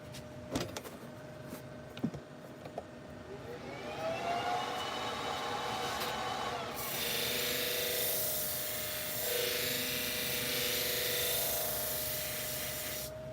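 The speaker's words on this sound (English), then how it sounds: "And I'm going to go to my sharpening wheel." A sharpening wheel grinds against a knife blade, a steady close whirring hiss that rises as the edge is pressed in and continues unbroken, with a few light clicks before it starts.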